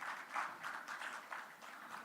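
Scattered, fairly faint applause from a conference audience in a hall, a short patter of clapping that fades slightly toward the end.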